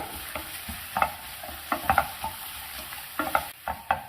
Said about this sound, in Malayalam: ഇത് എപ്പോഴും കൈയെടുക്കാതെ തന്നെ ഇളക്കിക്കൊണ്ടിരിക്കണം.